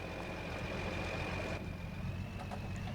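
A tractor engine idles steadily in Farming Simulator 22, a continuous low rumble with a faint high whine, alone and unbroken throughout.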